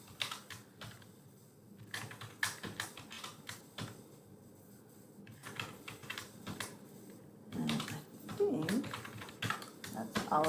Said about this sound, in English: bear with me while I type out names